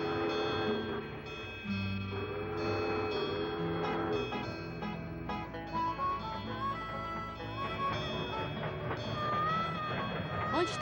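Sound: moving train

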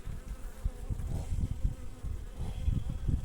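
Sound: honeybees buzzing at a beehive

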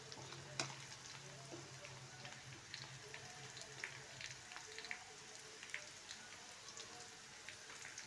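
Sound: onions cooking in a pan

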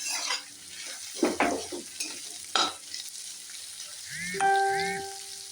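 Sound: frying peanuts in a pan

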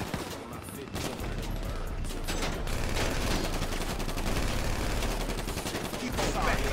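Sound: gunfire in the video game Grand Theft Auto 5 Online

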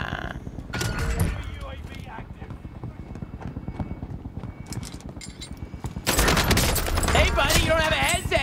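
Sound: gunfire in a video game

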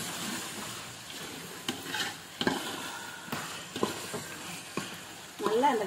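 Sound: brinjal sautéing in hot oil

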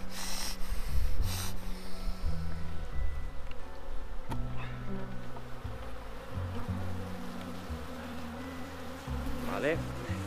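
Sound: honeybees buzzing around an opened beehive

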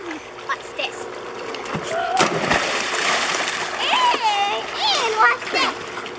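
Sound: splashing in water

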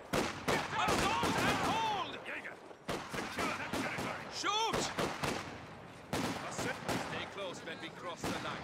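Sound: gunfire in video game Company of Heroes 2

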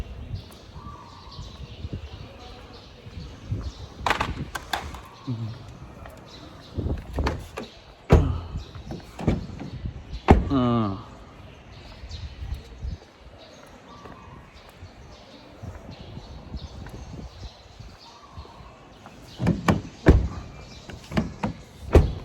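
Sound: closing the door of a white Isuzu pickup

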